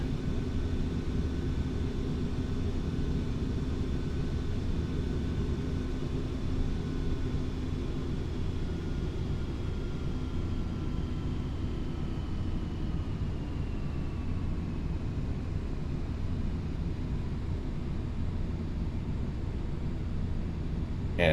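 A Boeing 737-800 airliner climbing after takeoff in FSX, a steady loud engine roar with a whining tone that slowly falls in pitch, continuous and alone without talk.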